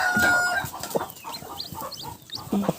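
Domestic hen clucking close by alongside newly hatched Black Cochin chicks, with a few short clucks and chick peeps spread through the stretch and a louder burst near the end.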